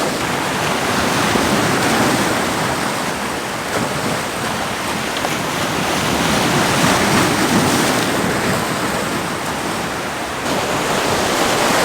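Ocean waves break on the shore at sunrise, a loud, steady roar of surf that swells and eases slightly, mixed with wind buffeting the microphone.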